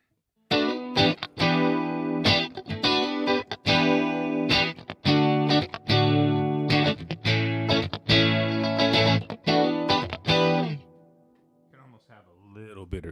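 An electric guitar played dry with the reverb turned off, giving a chimey tone. It strums a loud run of rhythmic chords with crisp attacks for about ten seconds, then stops, and a voice speaks briefly afterward.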